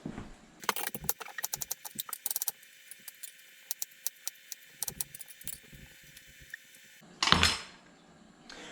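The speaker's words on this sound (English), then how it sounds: "So let's cut up an onion." An onion is chopped with a knife on a cutting board while prepping goulash ingredients for camping, a run of quick, crisp chops and taps, close and fairly quiet, with no talking.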